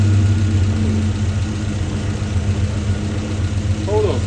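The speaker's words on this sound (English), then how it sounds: "now when I start the car" A Triumph TR4A with a rough-running, powerless engine idles loudly and continuously, its low, uneven throb steady throughout with a faint squeal near the end.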